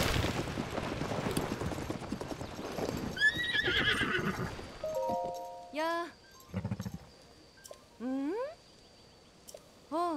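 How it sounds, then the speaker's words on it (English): A horse in Zelda: Tears of the Kingdom, with clip-clop hooves under busy game sounds and talk, followed by several bright, clear whinnies and snorts that stand alone near the end. "Can I get this horse?"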